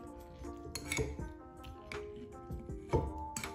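Sauerkraut spooned into a dish, with several sharp clinks of utensils against the bowl and soft wet handling sounds between them, close and moderately loud, no talking.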